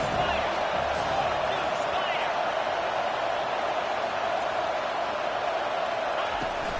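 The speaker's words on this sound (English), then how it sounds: "This crowd rising up, sensing that its defense needs some help." A big stadium crowd at a Georgia versus Texas college football game roars in a steady, dense wash of cheering, with a commentator's voice faintly over it.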